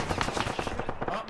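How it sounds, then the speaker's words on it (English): Rapid automatic gunfire from a machine gun in the ArmA military video game, a dense burst of sharp repeated shots filling the moment, loud and close. "Oh, machine gun!"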